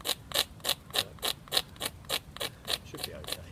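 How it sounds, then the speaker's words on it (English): A knife blade scrapes a piece of fatwood into fine dust at a breezy wild camp, producing a steady, evenly spaced series of about a dozen close, sharp rasping strokes. "the edge of my blade, a nice bit of fat wood, just scrape. So I'll get a fair amount of dust."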